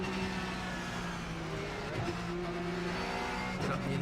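A race car engine drones steadily at high revs in a sim racing video game, with tires squealing and spinning through a launch off the start line, loud and continuous with no talking.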